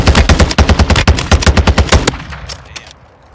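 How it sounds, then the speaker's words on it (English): Rapid automatic gunfire in a video game: a loud, fast string of shots for about two seconds, then a quieter echoing tail that fades out. "Oh yeah, they're getting shot."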